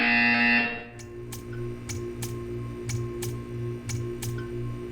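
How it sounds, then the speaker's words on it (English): In the video game Portal 2, a loud tone fades out, then a buzzer sounds as a string of regular sharp ticks over a pulsing electronic hum, eight evenly spaced beats. "You will hear a buzzer. When you hear the buzzer, stare at the art."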